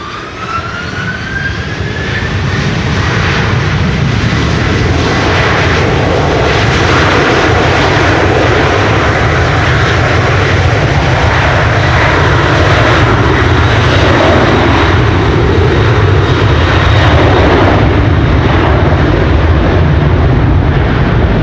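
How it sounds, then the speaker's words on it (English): A Boeing Dreamliner jet airliner bound for Newark roars past during stormy weather at Amsterdam Schiphol Airport, a loud, sustained engine rumble with a rising whine that builds over the first seconds and holds steady throughout. "And there's the Dreamliner to Newark."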